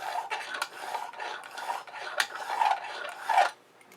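Broadhead blade stroked across Smith sharpening stones in a KME sharpener, a steady run of dry rasping scrapes at close range, repeated strokes with no talk.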